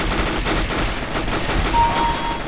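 Gunfire in CS:GO Arms Race, dense and continuous, a steady barrage of shots with no clear gaps between them.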